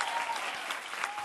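A short burst of audience applause, dense, even clapping filling the whole moment at a moderate level.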